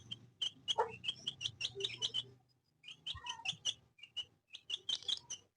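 Young chicken chicks peep in rapid, bright bursts, many high chirps in quick clusters, close and clear, with a brief pause midway before the cheeping resumes.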